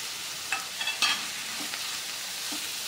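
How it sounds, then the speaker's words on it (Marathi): Grated bottle gourd sautéing in hot ghee gives a steady broadband sizzle with a few light stirring scrapes early on, close and moderately quiet, no voices. "तूप आपलं गरम होतंय आणि या तुपावरती आता आपण हा किसलेला दुधी भोपळा"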